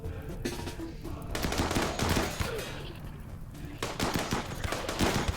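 Rapid bursts of gunfire in a chaotic video game battle on a dead planet, dense overlapping shots and volleys running throughout at steady loudness.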